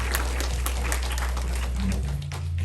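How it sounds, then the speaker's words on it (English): Audience applause at an Englewood Shell Club general meeting, a steady wash of clapping from a roomful of people that continues without a break, with a low hum underneath. "I would like everyone to give these people a round of applause"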